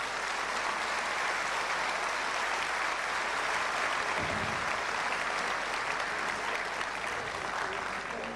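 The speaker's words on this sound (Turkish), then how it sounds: "lütfettiğiniz o alkışlarınızı daha şöyle dikkatle görmek istiyorum ben. Bir daha buyurun efendim" An audience at a live poetry and folk song performance in Lünen applauds continuously, a sustained even wash of clapping that holds steady throughout.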